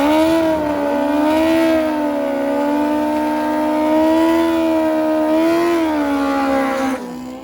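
Two 600 hp nitrous drag race motorcycles scream down a cold drag strip in one sustained, loud, high-pitched engine wail, rising and falling slightly in pitch and holding steady for about seven seconds before cutting off.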